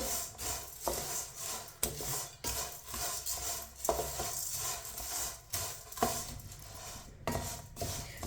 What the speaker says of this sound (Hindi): कम आंच पे 2 मिनट के लिए सेवइयों को भून लेंगे, फ्राई कर लेंगे।